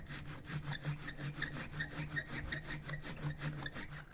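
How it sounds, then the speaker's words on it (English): A rubber ink brayer rolls back and forth through printmaking ink in a steady rhythm, each pass a soft sticky rasping swish, about twelve strokes, close and fairly quiet. "I'm just going to roll it back and forth so that all of my ink gets on my brayer"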